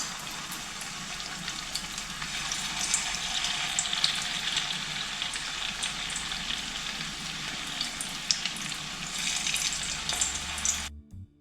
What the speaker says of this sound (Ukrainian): Далі продовжую обсмажувати решту котлеток.